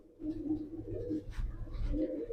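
Pigeons coo in soft, low, rolling murmurs that overlap continuously at a modest distance.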